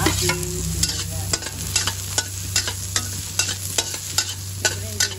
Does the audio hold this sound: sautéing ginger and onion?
yes